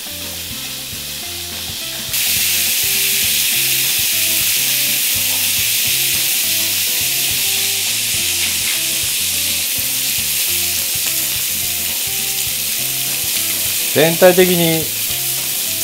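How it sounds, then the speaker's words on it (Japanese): Onions go into a pan with garlic on low heat for a beef stew and set off a loud, continuous close sizzle that swells after a couple of seconds. A brief voice speaks near the end. "でお隣の弱火でニンニクの香りが出てきたら"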